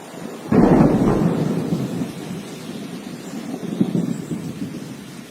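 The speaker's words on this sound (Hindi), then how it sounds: "जंगल में बारिश का मौसम शुरू हो चुका था।" Thunder crashes in with heavy rumbling, then rolls on under steady rain with a second softer roll near the end; a forest rainy-season storm, no voices.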